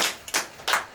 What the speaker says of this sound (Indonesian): Tepuk tangan dulu dong, biar agak semangat dah.